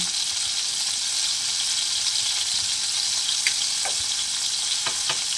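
Tomatoes sautéing in a pan for a Bengali tangra fish curry give off a steady, close sizzle and hiss, with a few soft scrapes and clicks of stirring near the end.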